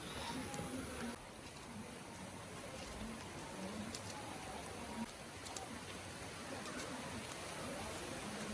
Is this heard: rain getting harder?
yes